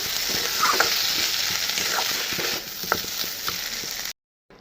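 Taro pieces coated in spices sauté in a pan for a curry, giving a steady close sizzle broken by scraping stir strokes and small clicks before it cuts off abruptly.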